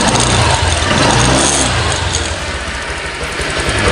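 A Honda Click 125 scooter engine being revved after a fuel filter replacement, a loud close buzzing roar that rises and then eases back toward idle.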